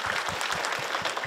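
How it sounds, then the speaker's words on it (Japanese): Brief applause from a group of children at a Japanese educational event on children's rights, a short burst of clapping with a few distinct claps standing out. "拍手。"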